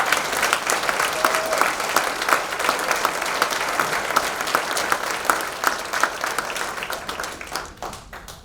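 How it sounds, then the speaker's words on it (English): Audience applause at a university athletics Hall of Fame ceremony: steady, full clapping from a large crowd that thins and fades toward the end. "give them a round of applause."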